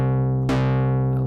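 A synthesized 808 bass note built in Helm hums as a deep sustained tone, then is retriggered with a sharp attack that dips quickly in pitch before settling into a steady, fading boom.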